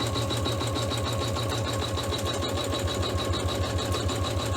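A sewing machine stitches steadily around the edge of a chenille hot pad, its rapid, even needle rhythm running continuously and close with no talking.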